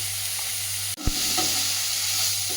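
Garlic, onion and capsicum fry lightly in a pan with a continuous close hiss, broken once by a brief knock from a utensil partway through.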